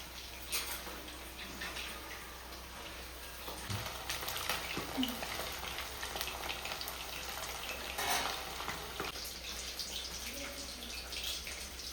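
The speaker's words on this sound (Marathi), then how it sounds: "कढईमध्ये जेवढे मावतील तेवढे तेवढे चिकनचे पीस मी तळायला टाकलेले आहेत" Chicken 65 pieces deep-frying in oil in a kadhai, a soft bubbling sizzle with occasional clinks and scrapes, fairly quiet and continuous.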